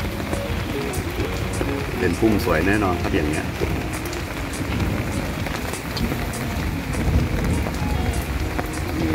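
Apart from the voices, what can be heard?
rain falling while walking through adenium garden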